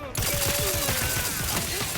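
Rapid automatic gunfire from a gun in The Outer Worlds 2 cracks in a quick rhythmic burst, loud and sustained for about two seconds.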